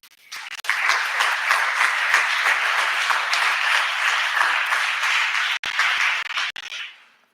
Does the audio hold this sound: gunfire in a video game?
no